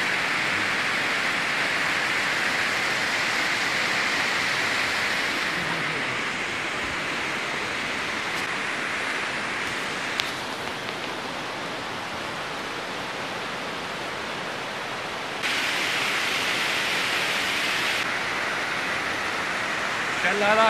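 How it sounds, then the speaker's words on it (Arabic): The Jermuk waterfalls in Armenia, in early December with light flow, roar steadily in a dense continuous rush, with brief shifts in level as people talk quietly nearby. "الشلالات اللي اصدقائنا زاروها بالصيف احنا زرناها اليوم"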